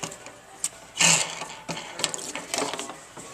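A spare tire's hold-down screw under a car's trunk mat is unscrewed by hand, giving soft, irregular ratcheting clicks and scrapes, close and quiet, with no voices.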